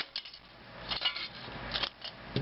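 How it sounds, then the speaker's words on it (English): A manual can opener cuts around the top of a Coke Zero can in short, close metallic clicks and scrapes, several bursts spaced unevenly, fairly quiet, with no voices. "now I'm going to use a can opener to cut the top off of it"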